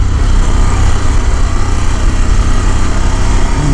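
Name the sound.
Harley-Davidson Pan America 1250 Special motorcycle engine riding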